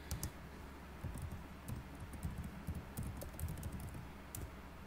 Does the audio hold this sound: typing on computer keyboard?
yes